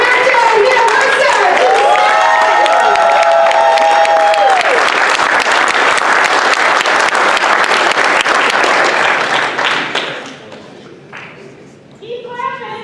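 Audience applause and cheering at a political party roast, loud sustained clapping with whoops and voices from a large crowd, fading near the end as someone begins talking.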